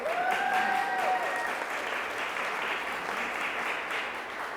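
Broad, sustained applause from an audience at an outdoor press conference in Columbus Park, steady and dense for several seconds before easing slightly.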